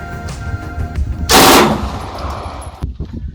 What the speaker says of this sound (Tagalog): Ang ipakita ko sa inyo ngayon yung capability ng ating mini Uzi